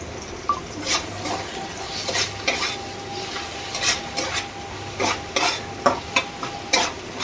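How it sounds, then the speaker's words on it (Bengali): Chopped tomato, onion and garlic fry in a pan while a spoon stirs them. Repeated scraping strokes and clinks run over a continuous sizzle, close and fairly loud, with no talking. "টমেটোটা পেঁয়াজ আর রসুনটা ভালো করে নেড়ে চেড়ে ভেজে নেবো"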